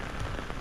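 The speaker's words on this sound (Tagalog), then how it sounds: "kasi lakas ng ulan, lakas ng hampas" Heavy rain pours and beats down hard, a dense, loud, unbroken roar of drops with no voices.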